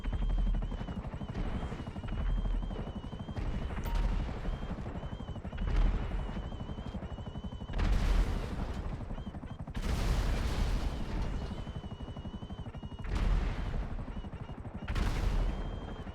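Bursts of gunfire strike vehicles in GTA V, repeated heavy volleys arriving every couple of seconds over a constant droning helicopter-like engine background.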